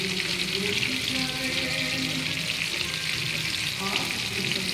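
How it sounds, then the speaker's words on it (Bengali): Pangas fish frying in a pan, a steady close sizzle and crackle of hot oil that holds evenly throughout, with faint clinks and stirring underneath and no talk. "এগুলো আমার মাছ ভাজার ভিডিও, পাঙ্গাস মাছ।"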